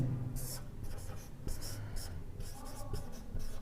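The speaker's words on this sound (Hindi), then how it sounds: "तो अपने ये लिखेंगे" Pen writing notes on paper in a classroom lesson, quiet repeated scratchy strokes in short bursts with a soft voice underneath.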